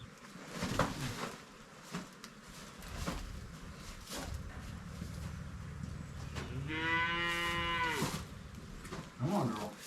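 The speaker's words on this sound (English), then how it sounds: "You're a big cow." A cow on a small dairy farm gives one long, loud moo partway through, set against steady barn background noise and faint handling sounds.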